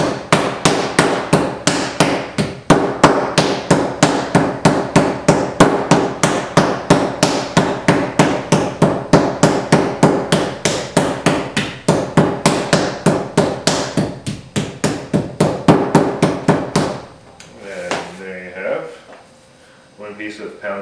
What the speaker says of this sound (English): One piece of pounded turkey breast.